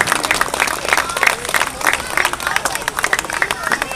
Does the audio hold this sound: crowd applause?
yes